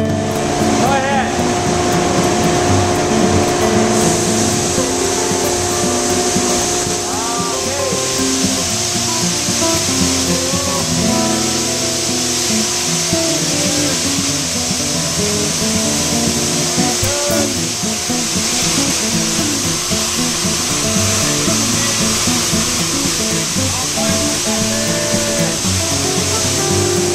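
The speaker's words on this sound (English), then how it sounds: "the clean oats will be coming down through the diffuser, through the airlock, through the cascaders, and discharged into that bin" An oat cleaning machine at a mill runs loudly and continuously as oats pass through a diffuser, airlock and cascaders into a bin, a dense mechanical roar and hiss with scattered rattles throughout.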